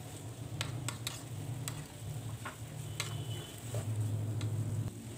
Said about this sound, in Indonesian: Diaduk-aduk terus sampai semuanya benar-benar tercampur